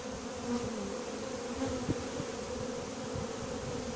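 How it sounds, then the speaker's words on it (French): Honeybees being hived at a farm hum as a steady, close swarm drone, with individual buzzes rising and fading over the continuous murmur. "Les abeilles qui montent là"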